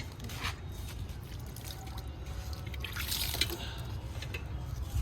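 Water splashes and trickles at close range in soft irregular bursts as flowering plants on a rooftop are watered, over a low background rumble.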